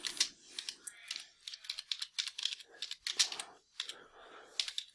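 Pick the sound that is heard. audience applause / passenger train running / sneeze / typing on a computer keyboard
typing on a computer keyboard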